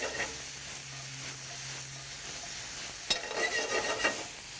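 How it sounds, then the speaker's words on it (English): Mushrooms sizzle in a hot pan with a steady hiss and some stirring scrapes. A brief squeal pops out about two-thirds of the way through, close and clear with no talking. "How about when you put them in the pan and they squeal at you?"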